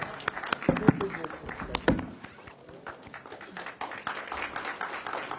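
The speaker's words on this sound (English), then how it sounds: "Mr. Piyush Goyal, let's give him a very, very warm round of applause" Scattered applause at a formal conference event for Piyush Goyal, with sharp individual claps near the start over a loose crowd, and voices talking through and after it.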